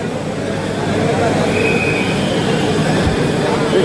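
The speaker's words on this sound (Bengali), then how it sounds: "শিয়ালদা রানাঘাটের মধ্যে শীততাপ নিয়ন্ত্রিত ইএমইউ ট্রেন" Inside a Sealdah–Ranaghat air-conditioned EMU local train, a steady low rumble and rolling hum carry on throughout, with a faint brief squeal partway through.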